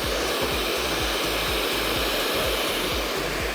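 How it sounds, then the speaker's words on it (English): A hair dryer runs continuously at close range, blow drying hair during a keratin treatment with its nozzle attached, giving a steady loud broadband whoosh with a faint pulsing motor hum underneath and no talk. "we're gonna blow dry it first to show you how it dries"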